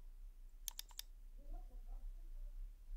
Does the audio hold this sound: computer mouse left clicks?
yes